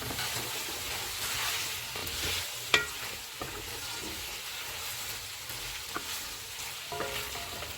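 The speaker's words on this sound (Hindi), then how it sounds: "चॉप की हुई सब्ज़ मिर्ची डालेंगे, इनको भी 2 मिनट तक भूनेंगे।" Chopped green chillies frying in a pan, giving a steady low sizzle with a few sharp scrapes and clinks as they are stirred, close and fairly quiet.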